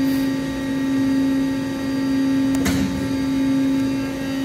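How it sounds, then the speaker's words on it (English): A servo motor running a test motion profile with no load attached gives a steady electrical whine and hum, with one brief faint transient midway. "You'll see the profile being sent to the servo now."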